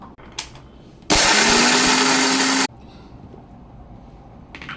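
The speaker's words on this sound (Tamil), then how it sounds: "இப்போ இதை நல்லா கிரைண்ட் பண்ணணும்." A mixer grinder whirs loudly for about one and a half seconds, grinding ingredients for keema kofta, starting and stopping abruptly amid quiet kitchen background.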